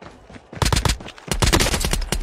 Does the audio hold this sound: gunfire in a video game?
yes